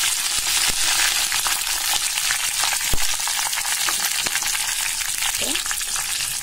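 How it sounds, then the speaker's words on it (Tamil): Curry leaves crackle and sizzle in hot oil with fenugreek seeds, a dense, loud, continuous spitting fry with occasional stirring clicks and no voices. "கருவேப்பிலை சேர்க்கலாம்"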